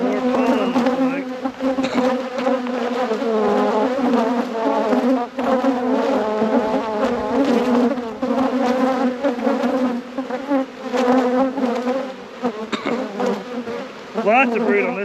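Honey bees buzzing loudly and continuously around an open hive during an inspection after winter, a dense close humming swarm with constant droning throughout.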